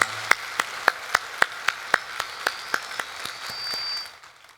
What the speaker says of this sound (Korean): 하나님께 감사와 영광의 박수 돌리도록 하겠습니다.